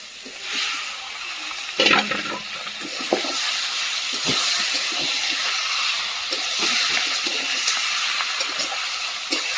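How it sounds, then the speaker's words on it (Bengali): Chicken meat dropped into hot oil with a ground coriander and cumin spice paste, letting out a loud rushing hiss that spreads and holds steady, with a few clatters of the pan early on. "মশলা থেকে তেল ছেড়েছে, এবার মাংসটা দিয়ে দেবো।"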